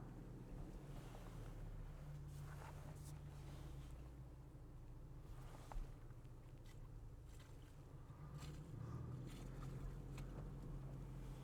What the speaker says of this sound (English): We're just gonna go nice and easy into this water because it is pretty deep.